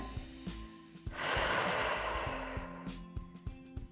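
Deep breathing during a second-trimester pregnancy pilates exercise at home: a long, loud, rushing exhale lasting about two seconds, with quieter short breaths and soft clicks around it, close to the microphone.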